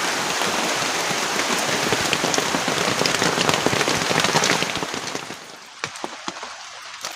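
Heavy rain pours down on a campsite during a storm, a dense, loud, steady hiss with close drips and patters that thin out near the end.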